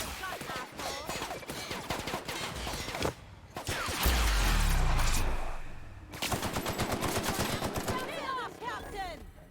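Rapid gunfire in The Outer Worlds, dense crackling volleys of shots running almost continuously, broken by a deep rumbling blast in the middle, with voices mixed into the clamor.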